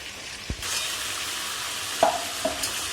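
Giant freshwater prawns fry steadily in hot oil, a loud continuous sizzle broken by a couple of sharp scrapes from a spatula.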